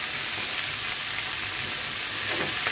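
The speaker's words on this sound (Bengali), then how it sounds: "আচ্ছা এটা একটু ভেজে নিই।" Bitter gourd fries in a pan with plenty of onion, giving a loud, dense sizzle that stays steady from start to finish. A faint stirring sound runs underneath.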